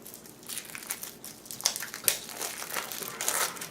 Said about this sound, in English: Me and cellophane, we don't get along.